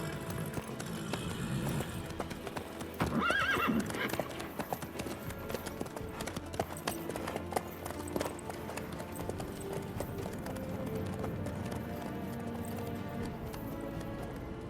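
Horse hooves clip-clop in a steady gait across the Witcher 3 game world, with a brief neigh partway through and music or ambience continuing underneath.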